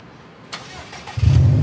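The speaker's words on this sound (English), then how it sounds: "listen to this beautiful exhaust right here" A 2019 Subaru STI with an Invidia R400 aftermarket exhaust turns over and catches, then settles into a loud, deep exhaust rumble that grows steadily stronger.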